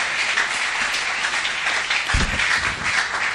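A church congregation breaks into sustained applause at a Bible seminar, a dense, steady wash of clapping throughout with a few faint voices mixed in.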